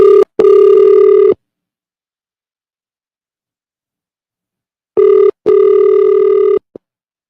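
Telephone ringback tones on an outgoing call: two double-pulse rings separated by several seconds of silence, loud and clean, with no voices.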